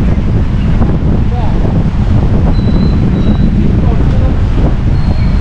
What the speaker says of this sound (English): It's really windy right here.